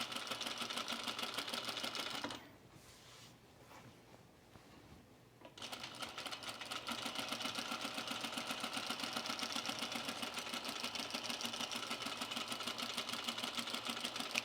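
A sewing machine stitches slowly over a placket on a Cashmerette Franconia dress, a soft rapid mechanical patter that pauses briefly near the start, then resumes steady and close, quiet with no talking.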